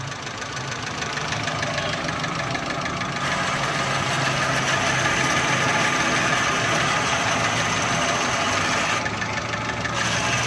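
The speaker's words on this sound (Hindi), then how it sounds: "जिधर इंजन का आवाज़ स्मूथ हो जाए, देखें आप बंद भी नहीं हो रही गाड़ी" A car engine running on CNG idles steadily with a smooth, even hum and slight knocking rumble, running continuously without stalling.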